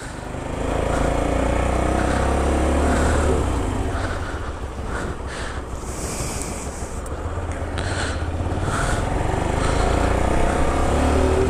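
A newly purchased motorcycle is ridden along, its engine droning loud and close with rising and falling revs and rushing wind noise throughout.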